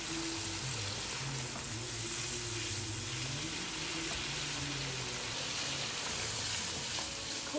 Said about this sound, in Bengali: মশলা কিন্তু কষানো হয়ে গেছে,